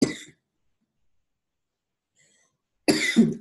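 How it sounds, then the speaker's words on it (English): A presenter gives two short, sharp coughs, close to the microphone, separated by a long stretch of near silence. "And I'm coughing again."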